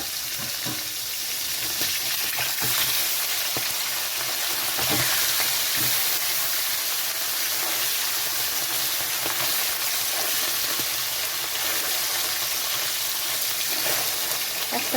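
Tengra fish frying in hot oil under a lid, a steady dense sizzle with scattered pops and crackles, close and even throughout, no voices.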